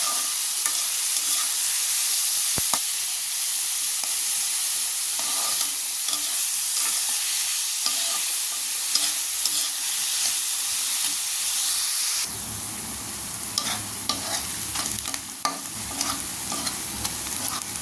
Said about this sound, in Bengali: পেঁয়াজের কাঁচামরিচগুলো এখানে আমি আধা ভাজা করে নিয়েছি